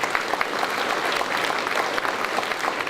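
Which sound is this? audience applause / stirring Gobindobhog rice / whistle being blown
audience applause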